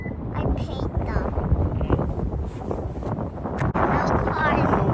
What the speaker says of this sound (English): As you can see, it's so windy.